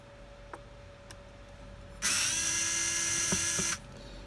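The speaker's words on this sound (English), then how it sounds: "So I'm going to take my powered screwdriver" Powered screwdriver taking screws out of an Uhlmann reel, a single high whine lasting under two seconds, close and clear over a quiet steady hum, with a few faint clicks before it.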